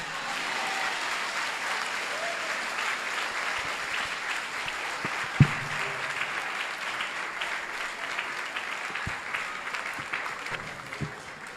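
A church congregation applauds continuously for several seconds at a moderate level, one sharp thump partway through, with faint voices mixed in.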